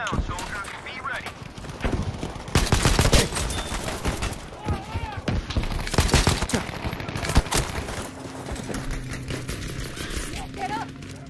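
Artillery barrage and gunfire in a Battlefield 5 battle at Iwo Jima, a run of loud broadband blasts and rapid shots from mid-clip onward, with shouted voices in the mix.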